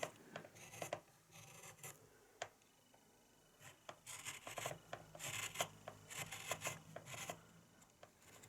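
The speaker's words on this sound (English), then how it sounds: "you can carve against the grain with your chisel" A wood-carving chisel cuts against the grain on a carved swallow wing feather, making faint, close scraping and shaving strokes in irregular short bursts that grow busier toward the end.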